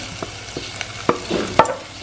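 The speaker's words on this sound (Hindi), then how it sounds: "1 खाने का चम्मच घी डाला हमने, लहसुन अदरक और प्याज इकट्ठा डाल दें। तकरीबन 30 सेकंड इसको भूनने के बाद सारी चीज़ें शामिल कर दें।" Garlic, ginger and onion fry together in a spoonful of ghee, a close sizzle with repeated scraping stirs and spoon taps against the pan.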